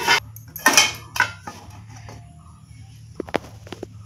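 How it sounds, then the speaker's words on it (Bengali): A metal plate being lifted off a gas stove while cooking a semolina breakfast, with sharp clattering clanks of dishes and utensils at the start and a few lighter clinks near the end. "এখন আমি থালাটা গ্যাসটা অফ করে দিয়ে থালাটা আমি নামিয়ে নিচ্ছি"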